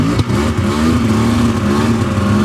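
A Yamaha Vmax 700 triple snowmobile engine idles loud and close, running rough with an uneven, sputtering drone and a pop near the start, steady throughout with no voices.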